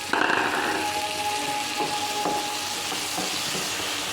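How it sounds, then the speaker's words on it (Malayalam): Chopped tomatoes dropped into a hot pan of curry base set off a steady, close sizzle with a brief clatter as they land, settling into an even frying hiss with occasional stirring knocks. "ഈ 3 തക്കാളിയും കൂടെ നമുക്ക് ചേർത്ത് കൊടുക്കാം."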